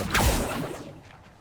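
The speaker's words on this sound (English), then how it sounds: "Accio." A summoning spell is cast in Hogwarts Legacy, a single quick whoosh that swells and fades within a second.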